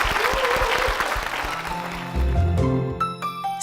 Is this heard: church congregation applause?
yes